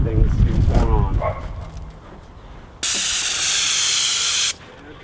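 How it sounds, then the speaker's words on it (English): A Titan airless paint sprayer fed through 100 feet of hose sprays through a TR1 HEA tip, giving a loud, even hiss that starts abruptly and stops about two seconds later. Someone speaks briefly before it begins. "spray some right here with our 100 feet of hose"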